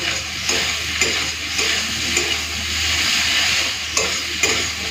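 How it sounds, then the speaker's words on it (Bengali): Prawns fry with onion in a pan, giving a steady loud sizzle broken by several sharp scrapes of stirring and a low hum underneath, with no talking. "চিংড়ি মাছটা একটুখানি পেঁয়াজের সাথে হালকা ভেজে নিই"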